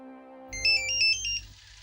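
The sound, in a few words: phone ringtone ringing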